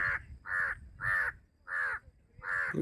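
A lone crow caws five times in a slow, even rhythm, each call loud and harsh, with quiet gaps between and no other voices.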